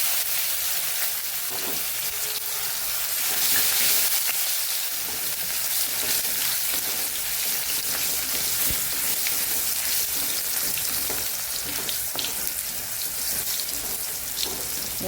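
Chopped tomato frying in hot oil with cumin and hing, a dense continuous sizzle and crackle close by, steady throughout with small pops and no talk.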